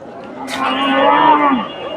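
A cow moos once at a cattle market in Dhap, Bogura, a long low drawn-out call that swells and fades, close by, with faint background chatter.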